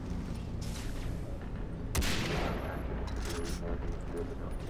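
Gunfire in the video game Far Cry 3 Blood Dragon, with a loud burst of shots around the middle over steady background noise and talk.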